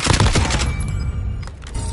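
Dense gunfire crackles in Call of Duty Warzone on Rebirth Island, a loud burst of rapid shots up front that thins into sporadic fire and rumble.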